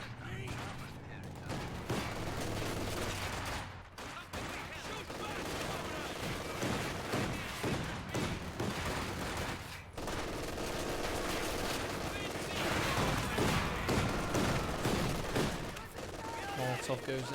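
Loud, continuous WWII strategy game battle: rattling MG42 machine gun bursts mixed with heavy gunfire and explosions, with a commentator talking over the din.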